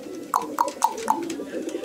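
A White Danish pigeon from a farm pair coos four times in an even rhythm, each short note rising and falling, close by over a soft background hum.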